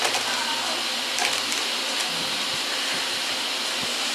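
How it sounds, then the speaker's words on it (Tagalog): An electric fan running loudly indoors gives a steady, close, breathy hiss that holds throughout, with faint low thumps and knocks beneath it. "Pakalakas ng electric fan."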